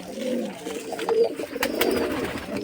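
Rajshahi Giribaz pigeons cooing close by in soft, repeated throaty murmurs, with a few light clicks and rustles among them.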